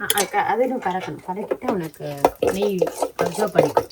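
Sweet pongal (sakkarai pongal) with ghee is stirred in a pot, with a few soft scrapes and clinks against the pot. A person talks continuously over the stirring.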